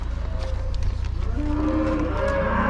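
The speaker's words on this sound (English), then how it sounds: "Cattle are roaring" Cattle mooing in a calf shed while waiting for feed, several overlapping low drawn-out moos and bellows over a steady mechanical hum from a diet feeder, continuous and fairly loud throughout.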